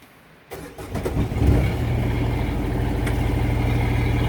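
A diesel engine in a Stern vehicle with front and rear engine compartments cranks briefly after preheating, catches and settles into a steady, close, loud idle.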